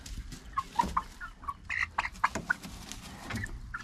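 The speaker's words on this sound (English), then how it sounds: "one of the cockerels at the entrance" Hens on a homestead cluck softly nearby in a quick irregular series of short clucks and murmurs, with faint outdoor background around them.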